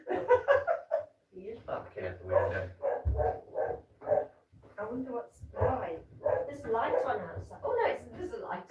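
A dog barks in short bursts from close by, mixed in with steady conversation between people.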